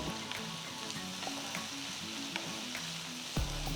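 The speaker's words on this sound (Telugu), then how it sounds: "ఇప్పుడు ఇందులో రెండు టొమాటోల్ని రఫ్గా కట్ చేసి వేయాలి వీటిని కూడా ఐదు నిమిషాలు వేస్తే కాస్త మగ్గుతాయి" Roughly chopped tomatoes frying in a pan for a Tamil Nadu garlic curry, a steady close sizzle with light stirring scrapes and a louder clatter near the end, no voices.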